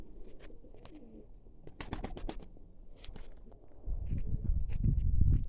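Pigeons cooing and fluttering while being fed scattered grain, with soft pecking and shuffling steps close by, the activity swelling into a denser, louder bustle toward the end.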